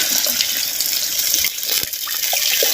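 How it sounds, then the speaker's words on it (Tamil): About a litre of water pours steadily into a pot of mutton, a continuous splashing rush with a few faint clinks underneath. "நல்லா மட்டன் வேகிறதுக்கு 1 லிட்டர் பச்சை தண்ணி சேர்த்துக்கிறேன்"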